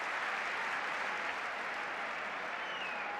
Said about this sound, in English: Applause rings round the ground.